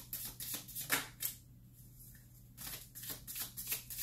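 Tarot cards being shuffled by hand in a quiet room, with repeated soft riffling bursts and papery flutters coming in irregular clusters, a brief lull partway through, and no talking.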